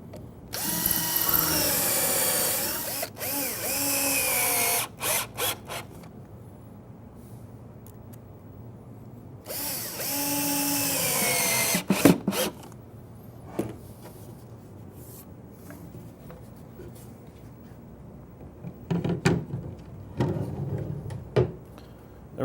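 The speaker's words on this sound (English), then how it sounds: "Now we're going to pre-drill for screws in both corners" A power drill whines up in two long bursts several seconds each, pre-drilling screw holes in cabinet face frame corners, separated by clunks and handling noises, then shorter drill pulses near the end.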